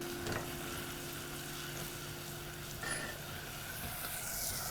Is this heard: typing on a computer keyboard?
no